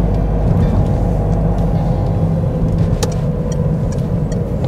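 A Peugeot 407 heading uphill, its engine a steady, loud low rumble heard from inside the car, with road noise and a few faint knocks, no talk.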